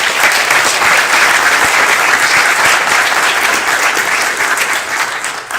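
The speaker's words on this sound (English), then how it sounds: "we need to give you another round of applause." Audience applause at a city press conference, a loud, steady wash of many hands clapping that fades slightly at the end.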